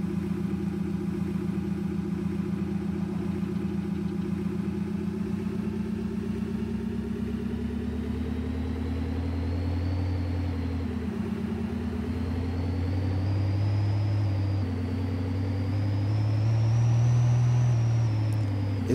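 A vehicle engine in Farming Simulator 22 rumbles steadily close up, its pitch sagging and then climbing as it pulls away under load, continuous with no talking.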